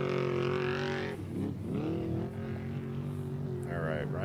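An off-road race vehicle with an aero package roars loudly at a desert race qualifier in San Felipe, engine pitch sweeping up and down as it revs, with people talking over it.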